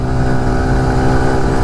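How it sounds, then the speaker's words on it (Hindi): A TVS XL 100 moped engine runs at full throttle on narrow roads, a loud, steady buzzing drone heard close up with no break. "इन पतली पतली सड़कों पे TVS Excel with full throttle."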